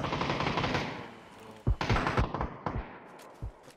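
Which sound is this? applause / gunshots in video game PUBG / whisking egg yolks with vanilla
gunshots in video game PUBG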